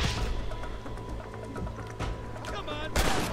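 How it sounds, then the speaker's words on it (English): Gunfire and grenade blasts in the Western shooter game Red Dead Redemption, a steady crackle of shots with sharper bursts near the end, heard under someone talking. "Oh, they're throwing nades again."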